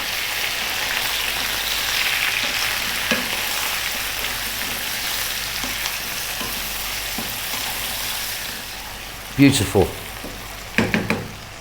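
Chopped onions with salt fry on medium heat for a chicken curry, a continuous crackling sizzle with a few louder spatula knocks late on; a voice briefly speaks over it.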